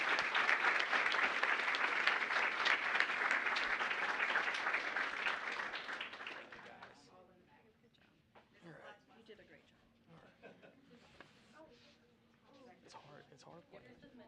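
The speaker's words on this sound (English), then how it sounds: "So please join me in applauding these young students." An audience at a student competition final applauds loudly for about seven seconds, then the clapping fades into quieter murmuring and scattered voices.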